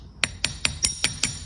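A small hammer lightly taps metal chain links flat for a custom infinity clasp: six crisp, evenly spaced metallic taps, close and clear.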